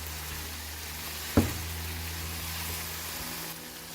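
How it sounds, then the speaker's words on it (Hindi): Meat cooks in a pan with a steady, soft sizzle, broken once by a brief clunk. "गोश्त ये पक रहा है।"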